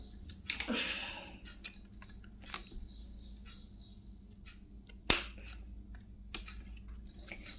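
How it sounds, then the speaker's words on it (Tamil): Plastic wire used for weaving a wire bag is cut, with two sharp isolated snips standing out over a quiet background and a few faint handling clicks. "இந்த ஒயரை வந்து கட் பண்ணிக்கணும்"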